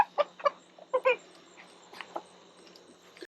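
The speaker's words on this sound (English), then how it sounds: "Look at all the chickens." Several chickens clucking close by in the dark, a cluster of short sharp clucks early on followed by scattered softer calls against a faint steady hum.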